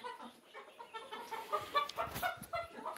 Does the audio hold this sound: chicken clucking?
yes